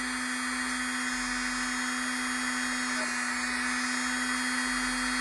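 A recovering sewing machine motor with worn armature and brushes runs steadily at top speed, giving a constant, even electric whine with a strong steady hum throughout and no change in pitch.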